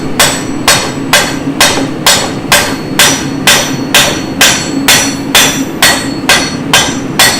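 Hammer blows ring out on an anvil during forging, about fifteen evenly spaced sharp metallic strikes, loud and close, with no talk over them.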